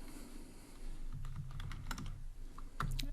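Fingers tap quickly on a computer keyboard while entering Kotlin code for an Android app, giving close, uneven clicks in short runs.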